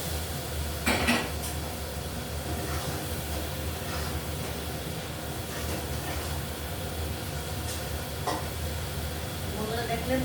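Taro and prawns sautéing with spices in a pan for a spicy curry, a constant low sizzle under clinking metal utensil strokes against the pan at intervals, with no speech.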